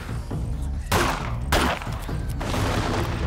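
Loud gunfire and blasts in a 7 Days To Die horde-night fight, with heavy shots landing about every half second against dense, constant combat noise.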